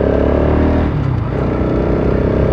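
A Bajaj Pulsar RS 200 BS6 motorcycle engine runs steadily and loud, a continuous smooth drone heard alone with no talk.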